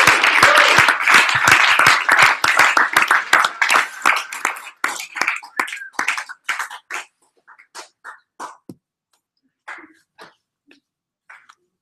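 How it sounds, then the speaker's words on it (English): Audience applause for a district manager taking the stage at a company breakout session, loud dense clapping at first that thins over several seconds into scattered individual claps before fading out. "So big round of applause, our Tampa District Manager, Mr. Carlos Fide"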